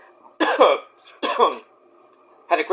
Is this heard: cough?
yes